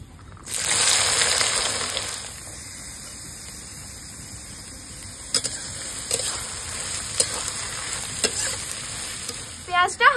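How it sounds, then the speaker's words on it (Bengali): Whole cardamom, cinnamon, cloves and bay leaves hit hot mustard oil with a loud burst of sizzling that quickly settles into a softer steady fry, with a few scattered clinks and a faint background hum, close and without speech. "তো প্রথমে ফোড়নে কিছু গোটা মশলা দিচ্ছি।"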